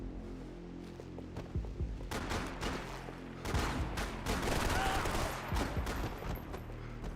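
Gunfire in Max Payne 3, bursts of rapid shots and sharp cracks coming in clusters, loud and close with a busy game soundscape behind.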